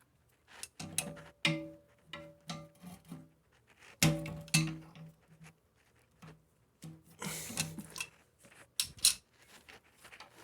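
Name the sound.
channel locks loosening plastic nut on toilet fill valve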